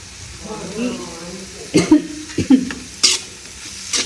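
Onions and curry leaves sautéing in a pan, a soft sizzle under several sharp scrapes and clinks of a spoon stirring, close by, with a person speaking.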